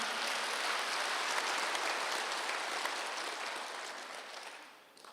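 A church congregation at a Wednesday worship service applauds steadily, a dense, continuous clapping that holds for several seconds, then thins and fades near the end; no talk over it.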